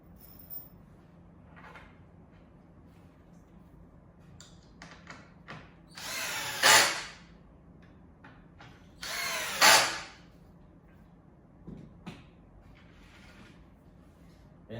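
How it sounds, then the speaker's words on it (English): Power drill driving screws into a car bed platform, two loud, short whirring bursts a few seconds apart, close by, amid quiet handling clicks and knocks. "Two more screws on the back side, bottom side."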